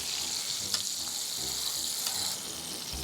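Sole fillets coated in cereal frying in a pan, giving a steady bright sizzle with a few faint clinks and scrapes of utensils, close and continuous, no talking.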